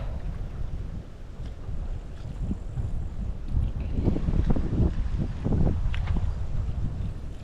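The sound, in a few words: wind blowing while fishing at a marsh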